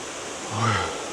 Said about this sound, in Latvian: Un tā esam nonākuši pie Siklavicas ūdenskrituma.